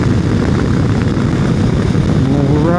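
A small propeller airplane passes overhead, its engine a loud, steady droning roar with a slight pitch shift near the end as it goes by, heard alone with no talk.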